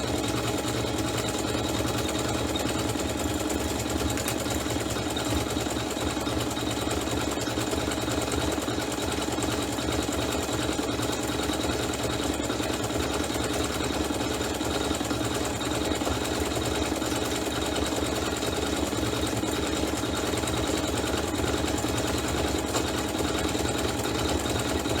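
An embroidery sewing machine stitches a decorative outline on a chenille hot pad, a steady, loud, continuous mechanical hum with fast needle chatter running unbroken throughout.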